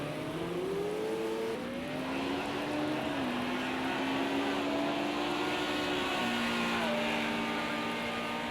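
A Mercedes V10 race car engine in Project CARS 2, from the FIA GT Championship '98 at Laguna Seca, drones steadily and loud with shifting pitch as it climbs and drops through gears, accompanied by a faint engine note and no talk.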